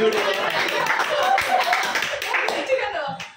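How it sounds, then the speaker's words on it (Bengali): Boys clapping for the winning team at a live general-knowledge quiz competition: a dense, steady burst of many hands applauding together for several seconds, close and loud, with voices mixed in. "ছেলেরা হাততালি, হাততালি।"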